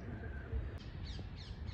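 Harsh cawing calls from a few birds at Sultanpur bird park, fairly faint against a steady outdoor background hum, with a couple of sharper squawks toward the end.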